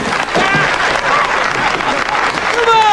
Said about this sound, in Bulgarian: Хайде, аплодирайте го!